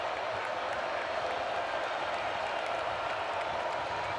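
Football stadium crowd at Maryland at Ohio State roaring in a steady, continuous wash of cheering and clapping, heard from a distance with muffled talk underneath.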